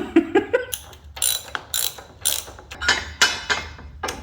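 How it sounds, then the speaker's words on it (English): Torque wrench ratcheting while servicing a BMW R nineT motorcycle: a series of sharp, close clicking bursts in an uneven rhythm, loud and clear with no talk. "Maybe I should use a torque wrench."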